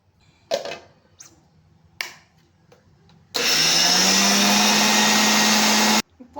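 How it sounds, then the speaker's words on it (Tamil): A mixer grinder loudly grinds soaked moong dal and raw rice in one steady, continuous whir lasting a few seconds, with a strong motor hum. A few scattered knocks and clatters come before it starts. "இப்போ இது ரெண்டையும் வந்து நம்ம வந்து மிக்சியில் எடுத்து போட்டு அரைச்சிட்டு வர போகிறோம், பாசிப்பருப்பையும் பச்சரிசியும்"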